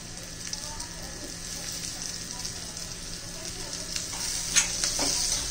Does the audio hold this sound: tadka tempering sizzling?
yes